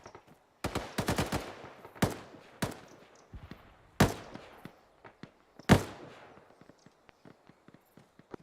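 Gunfire in an Arma game during a woodland firefight: sharp, loud single shots and short clustered bursts crack out irregularly, each with a decaying echo, alongside fainter distant pops and thuds.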